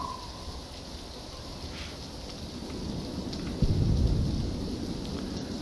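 A thunderstorm in the video game Arma 3 brings steady rain and wind with a low thunder rumble swelling partway through, a continuous full-band wash with no voices.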